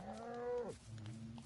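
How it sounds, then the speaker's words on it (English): A cow moos in Minecraft, a single drawn-out low call that bends downward at the end, close and clear with no talk over it. "Somebody's really mooing."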